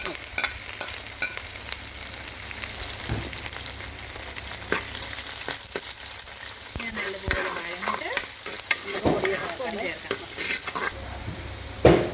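Ginger, garlic, shallots, green chili and curry leaves sauté in hot oil with a lively crackling sizzle, broken by repeated spoon scrapes and knocks against the pan, close and fairly loud.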